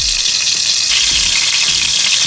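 Pesto salmon fries in a pan, a loud, steady sizzle close up with faint low bumps beneath it and no talking.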